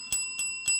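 Three bright, ringing strikes of a small bell in a quiet room, evenly spaced, each with a sustained metallic shimmer, near and clear, with no talking.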